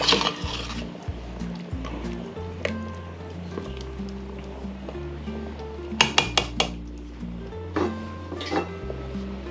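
Metal cooking pot clinks and clatters as a lid is set back on during sinigang preparation with meat and taro, several sharp chinks spread over quiet kitchen background with a low hum.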